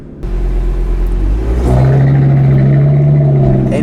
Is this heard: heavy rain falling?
no